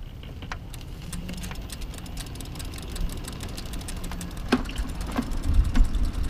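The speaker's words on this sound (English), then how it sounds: "the motor is pretty quiet starting out for how powerful it is" Electric hub motor of an EVELO Compass electric trike while riding, a quiet whir under road and rattling noise, with scattered clicks and bumps growing slightly louder toward the end; no talking.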